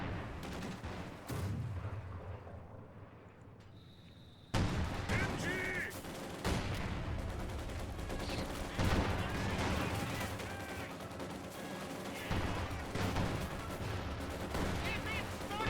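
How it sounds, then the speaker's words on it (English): Heavy machine gun and rifle fire in the Company of Heroes 2 strategy game, a dense steady battle clatter that starts abruptly partway through, mixed with other combat effects and no clear voices. "Panzer Grenadiers engaging the heavy machine gun in the center."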